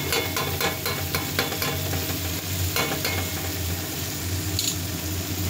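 Boiled potatoes sautéing in oil with spices, a steady close sizzle with scattered scraping stir strokes throughout and no talking.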